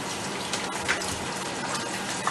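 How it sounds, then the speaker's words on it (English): Water poured into a dish while cooking, a steady broadband splashing gush that runs throughout at moderate level with no talking. "And then we add some water."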